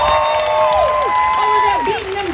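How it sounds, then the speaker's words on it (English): An outdoor festival-of-the-arts audience cheers for the band at a Disney on Broadway concert, with shrill whoops and shouts rising and falling over a steady crowd roar. "Please give a round of applause for our incredible band!"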